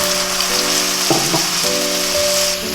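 A paste of ginger, cumin and dry chilli hits frying onions in a pan, giving a loud, close, steady sizzle with a brief burst of wetter spattering in the middle.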